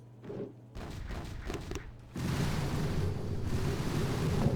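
Base exploding in the mobile strategy game Boom Beach, starting with softer booms and crackles, then a sudden swell into a sustained, dense roar of blasts and rumble that continues loudly to the end.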